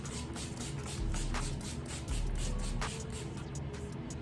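Hairspray misted onto the hair edges in a styling session, short hissing bursts close by, repeated several times alongside soft rustling and handling noises.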